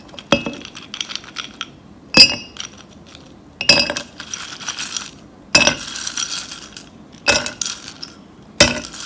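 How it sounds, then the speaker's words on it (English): Ice cubes clink and rattle as they are swirled in a cup of fizzy canned drink, coming in six separate bursts of crisp, close glassy clatter with quiet gaps between. "putting ice in a cup, pouring the drink in, and swirling the ice around. That clinking sound."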